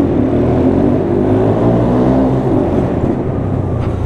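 A motorcycle engine revs in a loud, steady, close drone with a layered tone that holds for a few seconds, then eases slightly toward the end.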